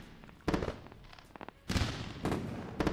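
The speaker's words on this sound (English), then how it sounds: "Listen to the fireworks show." Celebratory fireworks crackle and pop in a string of sharp bursts and booming thuds, some clustered, some spaced apart, fairly loud over a constant background hiss with no speech.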